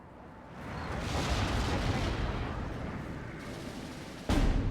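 Carpet bombing explosions in the Steel Division war game roll out as a long, dense rumbling barrage, loud and sustained, ending in a sharper heavy blast.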